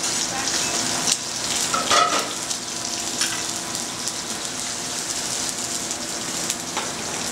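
Spinach thrown into a hot pan, a loud, close, continuous sizzle with crackling pops from start to finish and no voices over it.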